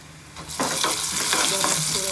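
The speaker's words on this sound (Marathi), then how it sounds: "तेल जास्त गरम झाले जरा दाल उडायचा जरा लाल व्हायला द्यायचं" White urad dal (idli dal) and curry leaves frying in hot oil for a chutney tempering, a loud close sizzle rising sharply as they hit the oil, with stirring scrapes throughout.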